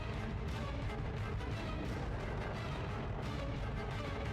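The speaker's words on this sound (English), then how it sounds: "That was a scary gunshot." A gunshot in the Bloodborne video game, heard as a dense, loud burst amid continuous booming, rumbling game noise that stays heavy from start to finish.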